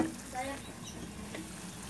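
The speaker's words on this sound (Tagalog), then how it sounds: "Yan, kumukulo na siya." Chicken hamonado simmering in a covered pan gives a soft, continuous bubbling sizzle, quiet and close, with no voices present.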